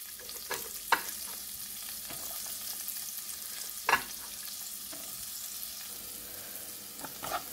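Chopped onion sautés with turmeric in a hot pan, giving a steady, close sizzle broken by a few sharp stirring scrapes and knocks, with no talking.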